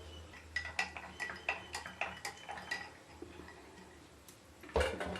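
Rooh Afza being stirred into falsa sharbat in a glass, with a run of light, fairly regular clinks of a spoon against the glass and a louder knock near the end, all close by with no talking.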